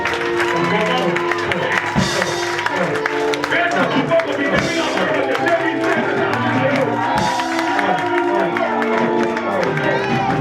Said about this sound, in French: Commence à acclamer pour ta victoire.